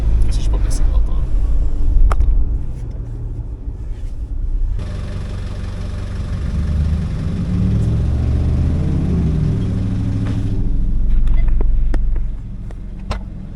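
A right-hand-drive Nissan Terrano on the road, its steady low engine rumble and road noise heard from inside the cabin, with faint murmured speech over it for part of the time.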